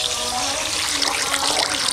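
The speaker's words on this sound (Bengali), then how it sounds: "এখন জল দিয়ে দেবো।" Water poured into a pan of shol fish curry with orange, a steady close splashing and trickling pour that runs unbroken for a couple of seconds.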